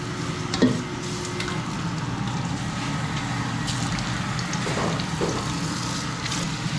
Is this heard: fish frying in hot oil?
yes